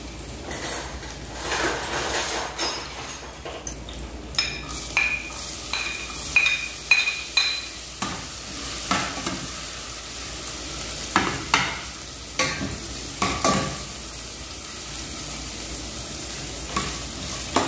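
Garlic sautés in a pan with a steady sizzle as a utensil stirs and scrapes it in repeated strokes, close and fairly loud, with occasional metallic clinks and no voices.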